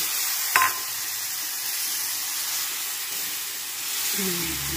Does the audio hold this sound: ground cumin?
yes